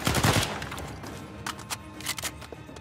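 Rapid enemy gunfire from the Uncharted 4 video game, a dense burst of shots up close at first, then scattered sharper cracks trailing off over a few seconds.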